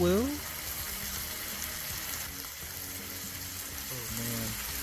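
Bacon frying in a pan gives a dense, steady sizzle that crackles close and loud throughout, with a brief voice heard near the start and again near the end.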